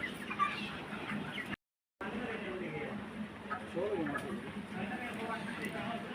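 Broiler chickens in a hot poultry shed give low, scattered clucks at a steady, modest level, with someone talking over them throughout and a brief dropout near the start.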